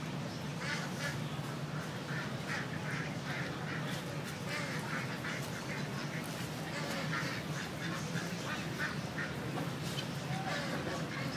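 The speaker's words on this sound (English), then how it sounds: "You've got a nice mixture in there of ducks, chickens and rabbits, believe it or not." Ducks quack repeatedly in a park enclosure in Tehran, a busy chorus of close, overlapping calls in irregular bursts over a steady outdoor background, with a voice talking faintly in places.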